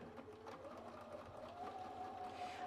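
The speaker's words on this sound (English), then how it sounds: "the reason that I'm just stitching this first little distance on the pocket" Quiet, close sewing machine stitching along a shirt pocket, a steady motor whir with fine rapid needle ticking and a rising tone near the end.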